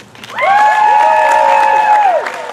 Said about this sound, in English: I want to hear big screams, big claps, cartwheels, backflips, whatever you need to do